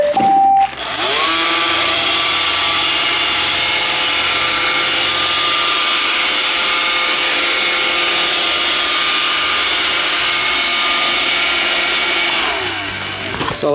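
An iRobot Roomba 580 robot vacuum starts up nearby and runs with a steady whirring motor hum and brush drone, then winds down at the end, with no voices.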